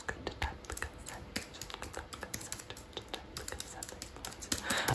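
Rapid, irregular keyboard typing runs throughout, close and crisp, with dense clusters of key taps at a soft whispered-room level and no talking.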